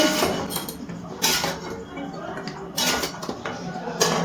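A metal spatula scrapes and clinks against a kadai as dhaba-style kadai chicken is stirred in softened, near-melted tomato, with irregular knocks and rattles up close over a steady kitchen background.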